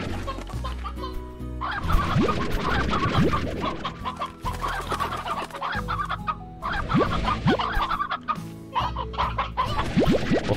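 Hens cluck repeatedly in the video game Slime Rancher, many close overlapping clucks and squawks over a soft game music bed, with no talking.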